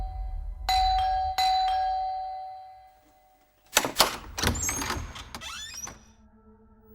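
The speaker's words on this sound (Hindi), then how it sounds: "बंसी काका, उफ, कब से डोरबेल बज रहा है" A two-tone electronic doorbell chimes twice, ringing out and fading, followed by clattering and mechanical rattling noises.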